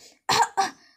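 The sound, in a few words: man coughing loudly on purpose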